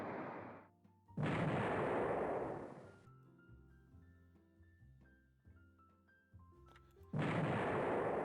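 Heavy naval guns fire in the warship strategy game Rule the Waves 3, two loud booming salvos with a long rumbling tail between them and a quieter musical stretch in between.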